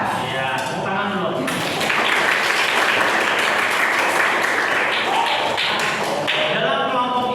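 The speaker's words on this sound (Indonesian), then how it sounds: "Ya, tepuk tangan dulu." A classroom of students breaks into sustained hand clapping that swells into a dense, steady wash of applause, with voices talking over it.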